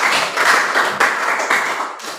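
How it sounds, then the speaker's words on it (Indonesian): A group of participants in a classroom teacher-training session claps hands together, loud and close, in a short burst of a little over two seconds that fades at the end. "Kita tepuk tangan dulu."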